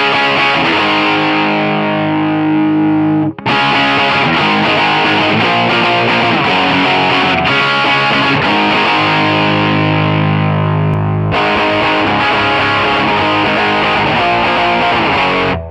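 Heavily distorted pop punk electric guitar through Amplitube 5 plays loud, dense power-chord strumming, with two short breaks between bursts and no speech.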